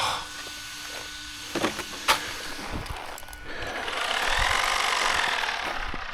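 Mechanical rattling from a Traxxas Maxx V2 RC truck, a scattering of short clicks and knocks that build into a steady, close rasping clatter during the second half, with no talking.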